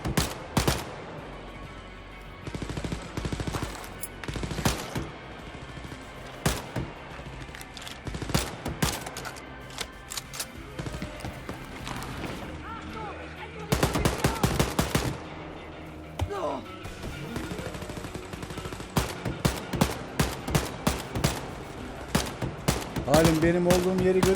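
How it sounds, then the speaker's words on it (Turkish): Gunfire in the shooter game Wolfenstein: Youngblood comes as repeated sharp bursts and rapid automatic volleys spread throughout, loud and punchy, with a player's voice talking between them. "uzaktalar ya. Uzaktan vuruyorum ben."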